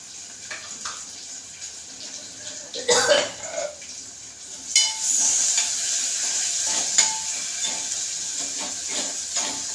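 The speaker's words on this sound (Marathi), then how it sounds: "फुल गॅसवर कांदा आपल्याला लाल करायचा आहे पटापट." Onion frying in a pan over a full gas flame, a steady hiss and sizzle with stirring scrapes and a brief cough, the sizzle growing louder and denser midway through.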